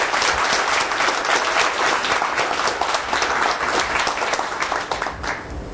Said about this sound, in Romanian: vă rog să aplaudați pe cei care au făcut posibilă prezența voastră aici